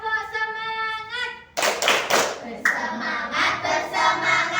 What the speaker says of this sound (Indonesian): Kita bertepuk semangat dulu, mau? Oke. Tepuk semangat.